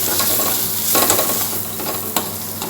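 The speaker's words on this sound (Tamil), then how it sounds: "எல்லா தூள் போட்டோன்னே இப்போ நம்ம மிக்ஸ் பண்ணுவோம்" Vegetables sautéing with spice powders and salt in a pan, with a loud continuous sizzle and scraping strokes of stirring close by.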